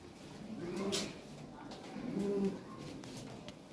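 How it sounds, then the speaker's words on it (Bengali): Yellow Lahore pigeons give two soft, low cooing calls, a second apart, against a quiet, faintly noisy background. "অনেক সুন্দর কবুতর।"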